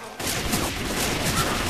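Rapid, continuous gunfire in Left 4 Dead 2 on a haunted forest mod map, starting abruptly and keeping up a dense, loud burst of shots.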